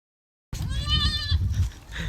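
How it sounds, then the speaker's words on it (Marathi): After a moment of silence, a goat lets out one loud, wavering bleat as it is caught in a rural yard. Shuffling and handling noise follows. "बकरी पकडा गेले. अरे पकड ना."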